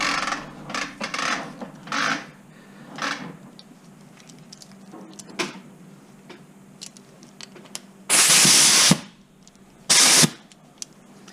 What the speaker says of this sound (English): I'm going to blow into this compartment here where the fans basically are, and that's going to blow any debris out this way.